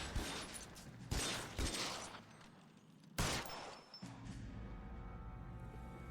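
Gunfire in the L.A. Noire video game: several sharp shots and bursts crack across a noisy game mix, with a heavy blast near the middle, then a steady mechanical hum.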